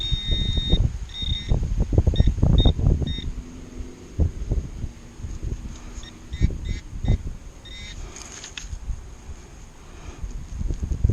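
Beeps from a Minelab Manticore metal detector swept over ground in a city park, several short tones in quick bursts, fairly near, over wind buffeting the microphone and rustling.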